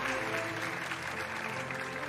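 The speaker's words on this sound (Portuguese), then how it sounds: "Nossos aplausos, por favor." Audience applause at a televised Brazilian awards show, steady clapping from a crowd filling the whole moment at a moderate, even level.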